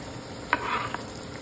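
A brief burst of sizzling as white onion hits a hot frying pan, a quick hiss lasting under a second against a quiet background.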